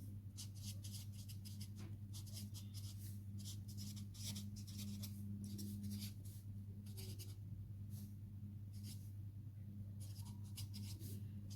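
Pen scratching out math working on paper, short bursts of close, dry scribbling strokes in an irregular rhythm over a low steady hum.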